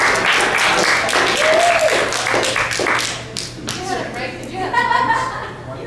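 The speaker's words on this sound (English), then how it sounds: "Round of applause for Gabby" Room applause at a college philosophy student conference, hands clapping steadily under overlapping talk, then fading as voices take over.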